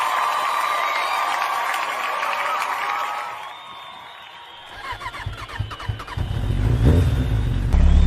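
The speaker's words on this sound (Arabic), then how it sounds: "أنا شريت الموتور هذا منشان أشتغل" A motorcycle engine starts up and revs about halfway through, a rough, low, throaty roar that builds and surges loudly after a quieter opening with other sound.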